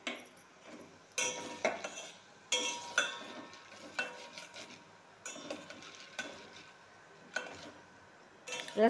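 Dry red chillies fry in hot oil in a pan while a spoon scrapes and stirs, producing intermittent metallic clinks and bursts of sizzling separated by short quieter gaps.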